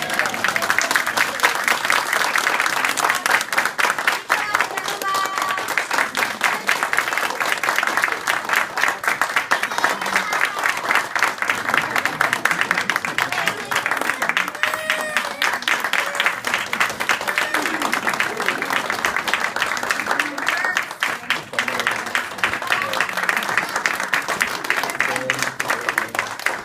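An audience clapping after a children's Christmas play, sustained loud applause from a crowd in a hall that runs steadily throughout with a few cheers mixed in.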